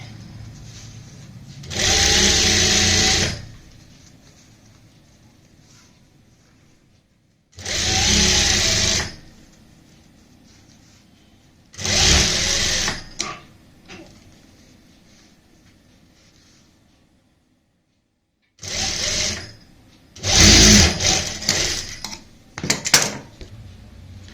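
A sewing machine stitches piping onto the neckline of a plain fabric garment in five separate bursts of a few seconds each, loud and close, with quiet pauses between runs.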